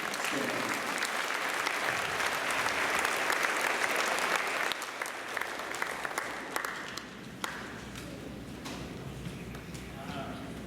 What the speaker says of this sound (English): let's give a round of applause for our guest speaker, Randall Stanley